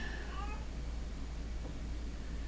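A house cat lets out a short, high meow near the start, then falls quiet under a steady low hum and background noise.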